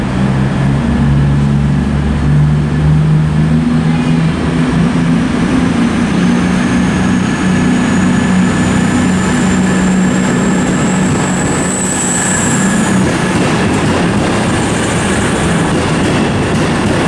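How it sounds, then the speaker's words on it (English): CrossCountry train departing Edinburgh Waverley station, a loud steady rumble of the engine and rolling wheels with a rising whine and a brief squeal, close by, no talking. "next train to depart will be the 1409 cross-country service to Plymouth from Glasgow"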